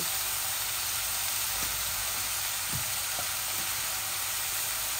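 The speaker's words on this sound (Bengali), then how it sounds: "এই পেঁয়াজগুলো একটু লাল লাল হয়ে যাক, তারপরে আমি শাকগুলা ঢেলে দিব" Onions and dried red chillies fry in hot oil, a dense, continuous sizzling hiss with a few faint clinks from stirring underneath.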